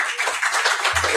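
A live crowd at a cigar podcast taping applauds the hosts, a brief dense patter of clapping from many hands, fairly close and even throughout.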